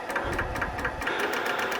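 A glue drip on a segmented wood bowl spinning on a lathe strikes the tool rest repeatedly, making a quick rapid ticking rattle over the lathe's motor hum.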